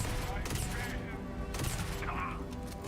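A gun fires in Starfield as several close, sharp shots with a weapon hum between bursts, while someone talks over them.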